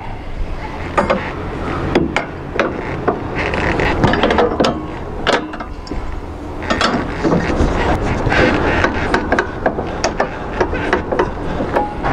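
A hand ratchet clicks in rapid bursts while a bolt is removed from an AGCO Dynaflex header's reel cam area. The sharp, close metallic ticks come in uneven runs over a steady mechanical background.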